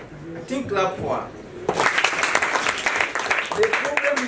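Voices talk briefly, then a classroom group bursts into fast, steady clapping that continues to the end, with some chatter mixed in.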